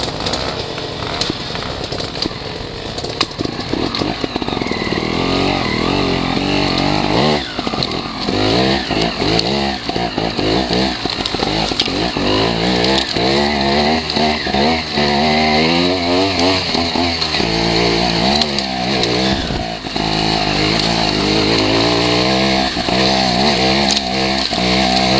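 Trials motorcycle engine running loud and close throughout, with repeated revs and throttle blips rising and falling over a steady drone.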